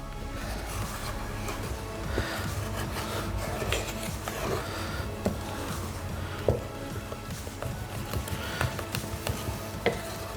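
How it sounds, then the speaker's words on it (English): Pecan pie filling with ground pecans is whisked in a bowl, producing a steady, dense rubbing and swishing texture, close but moderately quiet, with a few slightly louder strokes and no talking. "We're just whisking that in."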